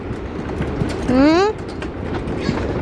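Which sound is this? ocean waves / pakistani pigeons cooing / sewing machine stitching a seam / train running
train running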